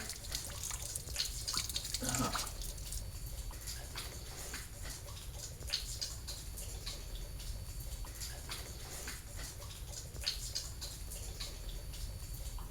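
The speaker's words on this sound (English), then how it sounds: "Also, the dripping is interesting." Water dripping inside a cave in the Twin Cities, scattered irregular drips over a steady hiss of running or trickling water, fairly faint and echoing, with no one talking.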